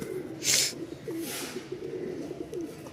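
Giribaz pigeons at the Mirpur-1 pigeon market in Dhaka coo in low, repeated burbles close by, broken by two short hissing bursts of noise early on.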